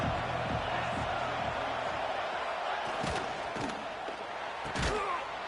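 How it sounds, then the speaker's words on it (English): Simulated stadium crowd noise from a Michigan vs Notre Dame college football video game forms a steady low roar, broken by several sharp thumps and slams. "This crowd bringing the energy and noise early."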